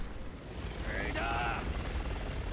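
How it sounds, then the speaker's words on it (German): A helicopter in the video game Resident Evil 6 gives off a low, steady rotor rumble with a faint tonal whine rising briefly in the middle, heard at moderate distance under game ambience. "Der Heli greift uns gleich an!"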